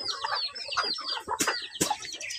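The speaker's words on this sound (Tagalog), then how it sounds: "Iya mama manok." A hen clucks repeatedly close by, short bursts mixed with other chicken calls, one or two louder sharp squawks standing out near the middle.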